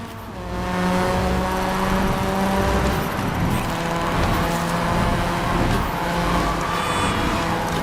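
Game car drifting in the racing game Clutch, a steady loud engine drone with tire squeal running the whole time, close and continuous, no talk.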